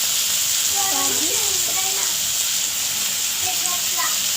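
Cabbage for a Maharashtrian kobichi bhaji sizzles steadily in a pan over a low gas flame, an even, close frying hiss throughout with faint voice traces underneath.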